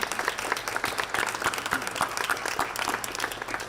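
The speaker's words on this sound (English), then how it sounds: "it's not every day you get the applause" Steady audience applause at a housing funding announcement in Southern Ontario, dense continuous clapping from a crowd heard alone without talk.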